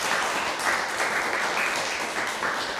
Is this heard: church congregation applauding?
yes